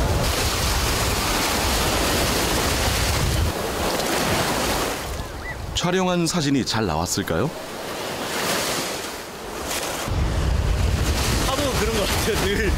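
Ocean waves break and wash continuously along a shore, a loud, close surf roar that briefly dips while someone speaks in the middle, then surges back in full.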